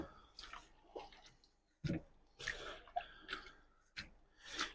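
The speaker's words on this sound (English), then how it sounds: "And we'll rinse that pot out," Water rinsing salt out of a pot, heard as close splashing, sloshing and dripping in several separate bursts with short quiet gaps between them, no one talking.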